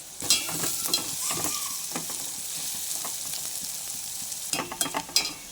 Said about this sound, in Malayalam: ഇനി നമുക്ക് ചുവന്നുള്ളി വറുത്ത് കോരാം.